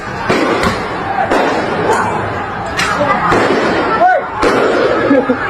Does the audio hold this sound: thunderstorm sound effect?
no